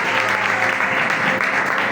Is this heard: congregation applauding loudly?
yes